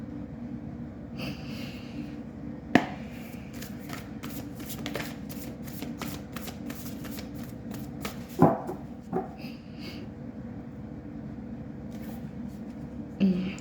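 Tarot cards being shuffled up close: a long run of quick riffling snaps and soft slaps, with a few sharper knocks, over a steady low room hum.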